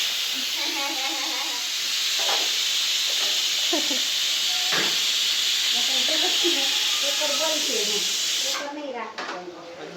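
A pressure cooker whistle blasts continuously as steam hisses out, loud and steady for most of the stretch before cutting off near the end, with household voices talking underneath.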